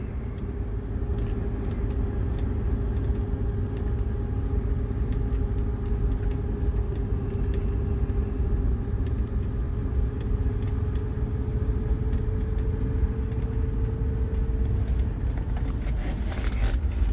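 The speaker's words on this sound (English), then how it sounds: "And here comes Jeff in my truck." A pickup truck arrives with a steady, low engine rumble that holds at a constant level for the whole stretch, with no talking.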